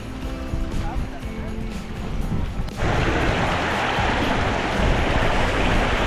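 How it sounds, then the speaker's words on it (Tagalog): A strong river current rushes loudly while people wade across it in North Cascades National Park, Washington State, the broad water noise jumping louder midway and continuing steadily. "Ayan, tumatawid kami sa ilog. Oop, medyo madulas. Ang lakas ng current."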